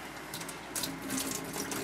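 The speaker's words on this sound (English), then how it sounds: "You want to dump all that water off, and you're going to wash it again." A kitchen faucet runs steadily into a sink while rice is rinsed for jambalaya, a continuous close splashing hiss with slight surges as the water is handled.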